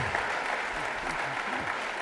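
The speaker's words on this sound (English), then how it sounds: "Give them a round of applause" Audience applause for presenters at a 1 Million Cups startup pitch event in Kansas City: a dense, steady wash of many hands clapping close by, unbroken for the whole stretch.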